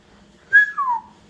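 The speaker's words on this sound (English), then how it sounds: "The mom whistled." A single rising-then-falling whistle from a person, clear and close, two quick tones in about a second with no talk.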